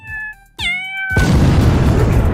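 A cat meows loudly in the mobile puzzle game Tiny Cat Assembles, a clear rising-falling cry near the start, followed by a burst of busy game music and effects.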